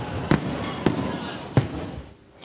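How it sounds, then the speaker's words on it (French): Fireworks bursting over the Kosiam palace at the FESPACO closing ceremony, with three sharp, booming pops spaced about half a second apart over a dense, noisy wash of crowd and ambience. "ces feux d'artifice qui ont illuminé le ciel du palais de Kosiam"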